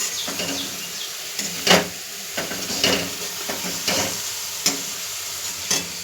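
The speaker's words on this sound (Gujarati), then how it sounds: "તો ગાઈસ લસણ આવી રીતે ઘી અને ગોળના હંગાથી આવી રીતે લસણ શેકાવા દેવાના।" Garlic roasts in ghee and melted jaggery over a low flame, a steady soft sizzle broken by repeated scraping stirs of a spoon against the pan, close and moderately loud.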